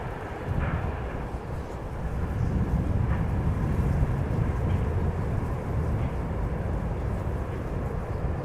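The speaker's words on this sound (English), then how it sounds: "737-800 arriving from London Heathrow, KLM flight" KLM Boeing 737-800 arriving at Amsterdam Schiphol from London Heathrow, a broad steady jet roar that rises slightly and holds at moderate distance, with no voices.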